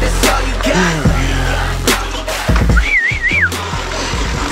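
A person whistles a short wavering tune, rising and falling in a few quick undulations, over a steady rumbling background with intermittent thumps and noise, no speech.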